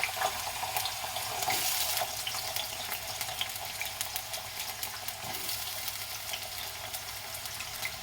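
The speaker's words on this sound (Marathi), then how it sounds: "तेल गरम झालेलं आहे. तेलामध्ये आता मी बटाटा टाकून घेते." Potatoes dropped into hot oil in a home kitchen while cooking a simple vegetable dish, giving a steady, close, hissing sizzle that runs throughout with a brief louder burst early on.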